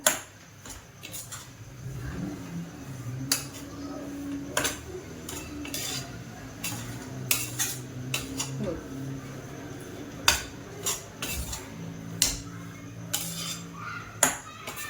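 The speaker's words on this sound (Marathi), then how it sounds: "तूप घालून चांगलं मिक्स करायचं याला." Semolina being mixed with ghee in a pan, with close, irregular metallic clinks and scrapes of a spoon against the pan over a low, steady background.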